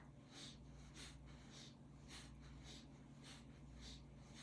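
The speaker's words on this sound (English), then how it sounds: "the sound of the breath sounds something like this." Yoga breathing during a seated twist: soft, rhythmic breaths repeating about every half second, close and quiet, each a brief airy rush.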